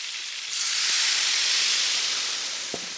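Wine poured into a hot pan with garlic bursts into a loud, steady sizzle and steamy hiss that starts abruptly and holds evenly, with a couple of faint clinks underneath.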